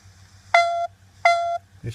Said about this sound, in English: So that's the ringtone.